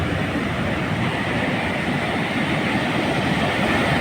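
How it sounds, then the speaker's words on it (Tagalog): Big ocean waves crashing at a beach, a loud, continuous roar of surf with no breaks, filling the whole stretch. "Lalaki ng alon."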